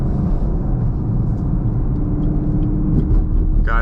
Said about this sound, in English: The exhaust is incredible.